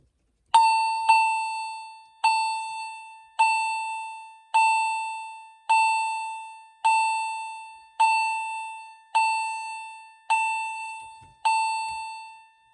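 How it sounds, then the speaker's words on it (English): An EST fire alarm chime rings in steady pulses, about ten bright tones each fading before the next, clear and close with nothing else behind it. "So we're just continuous pulsing chime."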